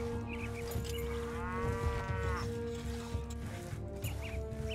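Cattle low in the strategy game Stronghold: Definitive Edition, one clear drawn-out moo standing out over a steady background drone, with other faint animal and ambient game sounds around it.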